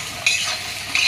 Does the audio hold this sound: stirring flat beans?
yes